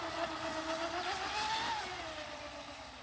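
The motor of a 24-inch RC hybrid stepped-hull boat runs at high revs, a steady buzzing whine that rises in pitch and then fades slightly as the boat moves off.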